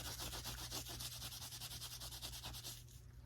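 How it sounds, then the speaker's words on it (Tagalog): A wet wipe rubs over shoes in quick, repeated scrubbing strokes, a soft continuous swishing heard close up and quiet, with no talking. "Bali pupunasan ko lang itong 3 pares na to"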